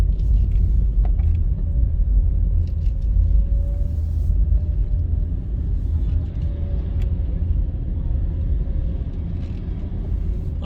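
A car rolls through Kingston Wharves container terminal, a steady low road rumble and engine drone from inside the cabin with faint clanks and distant machinery, no talk.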